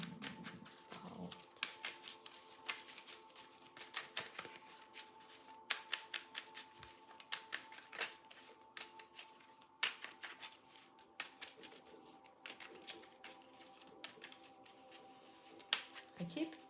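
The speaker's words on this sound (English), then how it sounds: "I keep shuffling the card way more than I usually do." Tarot cards are shuffled over and over during a reading, giving quick crisp riffling clicks and flutters in irregular bursts, fairly faint and close.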